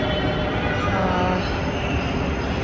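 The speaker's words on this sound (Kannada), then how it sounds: "ಮೆಟ್ರೋ ಸ್ಟೇಷನ್ಗೆ ಬಂದಿದ್ದೀನಿ ಮಕ್ಕಳನ್ನ ಕರ್ಕೊಂಡು" A loud, steady rumble of a metro train rolling past a metro station fills the whole stretch, broadband and continuous with no pauses.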